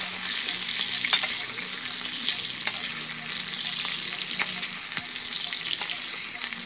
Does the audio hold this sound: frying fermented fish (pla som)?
yes